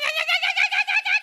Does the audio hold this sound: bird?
yes